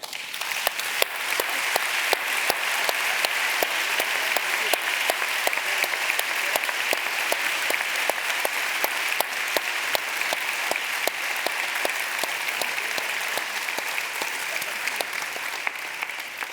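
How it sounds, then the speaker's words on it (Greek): Sustained warm applause from a large conference audience, dense and steady with crisp individual claps throughout, holding at an even level for the whole stretch. "Άλλο ένα θερμό χειροκρότημα."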